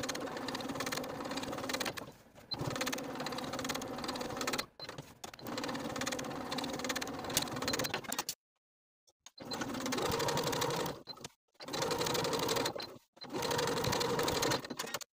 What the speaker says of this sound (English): First, we'll edge stitch close to those folded edges, then we'll top stitch once more 1/4 inch away from the original stitching line